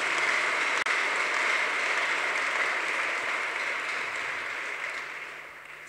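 A church congregation at a Sunday service claps steadily and loudly for the whole stretch, a dense continuous wash of applause with no voices standing out.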